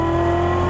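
A Chevrolet Corvette C7 Z06 engine pulls hard on throttle down a straightaway, a loud sustained tonal roar building briefly.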